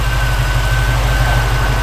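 A 1952 Chevrolet 3100 pickup's engine idles close by, a steady low pulsing rumble with an even, unbroken rhythm.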